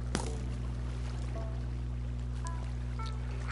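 Splashy swimming through water in Minecraft, soft repeated sloshing strokes over a constant low background hum, no talk.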